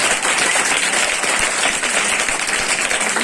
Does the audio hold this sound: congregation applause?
yes